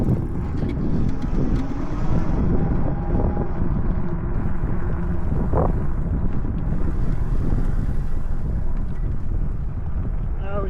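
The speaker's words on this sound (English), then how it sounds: "it's a little windy today." Wind buffets the microphone in a constant low roar throughout, with a rider's voice speaking faintly beneath the rumble.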